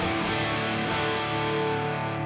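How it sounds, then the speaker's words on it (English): An electric guitar played through the Nolly Neural DSP amp plugin rings out with a delay- and reverb-heavy tone, its sustained, distorted notes washing together into a smooth, echoing wall of sound with no talk. "This is pretty delay reverb heavy tone for the moment."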